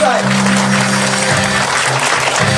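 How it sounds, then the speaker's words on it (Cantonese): Audience applause at a Hong Kong business opportunity presentation greets diamond-level executive Patrick Tang, a steady wash of clapping filling the room with a low sustained hum or music beneath it. "請借助大家最熱烈嘅掌聲"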